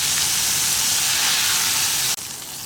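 Prawns fry in hot oil for a broasted prawn starter, a loud continuous sizzle and hiss close by that cuts off abruptly near the end and resumes a little quieter.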